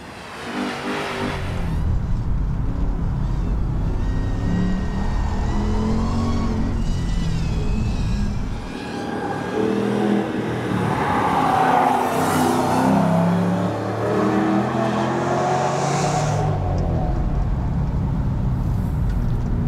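Ford Mustang convertible, tuned, running a timed lap on a track, engine loud and continuous throughout, pulling hard with rising and falling revs through straights and corners, one brief lift near the middle.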